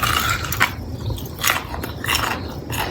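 Bubblegum-flavored candy with a soft, jelly-like inside and a crunchy crystallized shell is bitten and chewed up close, making several sharp crunches spaced apart and then softer mashing, with no speech.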